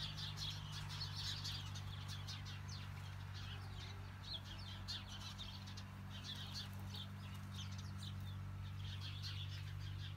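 Small birds chirp in quick, scattered bursts under the sun, fairly faint against a steady low hum in the background, with no voices.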